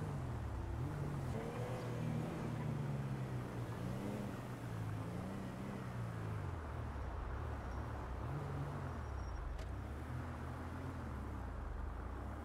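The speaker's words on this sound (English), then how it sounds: "I don't like these guys sitting here revving their engine." Car engines in the video game GTA V idle and rev in a low, continuous drone, the pitch rising and falling in slow waves for about twelve seconds.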